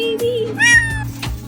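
A cat meows several times up close, clear rising and falling cries with short gaps, from a cat stuck in an odd spot.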